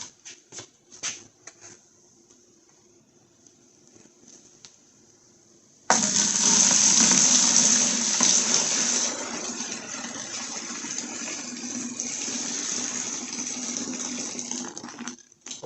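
Water and loose debris poured from a removed heater core of a 2012 Chrysler 200 3.6 into a pail: after some light handling noises, a loud sudden gush begins and continues as a steady splashing pour that eases slightly midway.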